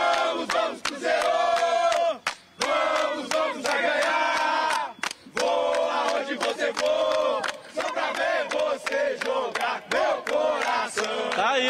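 A large crowd of Cruzeiro football fans chants in rhythm at Mineirão stadium, loud and close, with sharp percussive beats punctuating the singing throughout.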